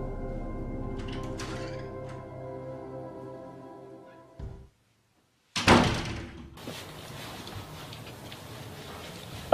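A door thuds with one sharp knock-like impact after a brief silence, followed by low room noise. A sustained musical tone plays before it.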